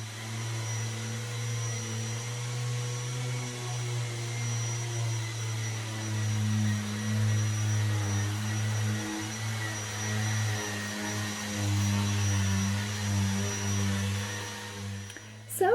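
A vacuum runs steadily with a loud, even droning hum alongside sanders while a catamaran hull is sanded, a constant close-up whine with faint voices underneath.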